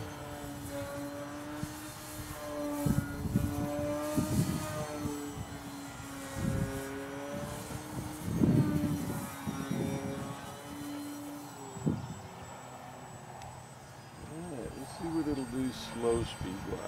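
A Tower Hobbies CrazE Wing EP electric RC plane drones overhead, its motor whine rising and falling as it flies slowly at altitude, with someone talking over it.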